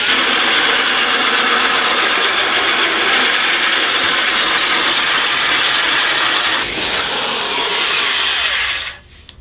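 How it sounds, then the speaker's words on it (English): A drill bores a 1/8 inch pilot hole into a plastic kitchen container, a loud continuous grinding whir that holds steady for several seconds, dips briefly, then stops at the end. "My normal practice is to drill a 1/8 inch pilot hole before I do the actual hole saw."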